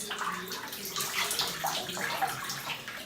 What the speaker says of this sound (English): So I'm going to squeeze the water out.